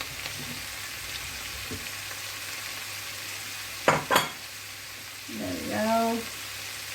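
Courgettes and other vegetables for a veggie curry fry in a pan with a soft, steady sizzle, broken by a couple of sharp utensil clacks as they are stirred, then a brief spoken remark.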